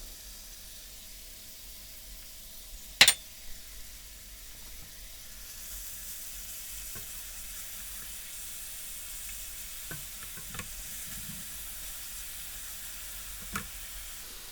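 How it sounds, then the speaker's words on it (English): Onions and garlic fry gently in oil over medium heat, a soft low sizzle running throughout with a sharp clink near the start and sparse light taps of stirring. "Heat the oil on medium heat and add the onions and garlic, stirring gently for a few minutes so they start to soften."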